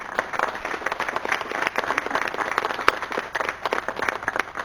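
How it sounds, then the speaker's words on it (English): Board members at a committee meeting giving a round of applause, a modest group clapping with distinct individual claps at moderate loudness and no talk. "We should give him a round of applause"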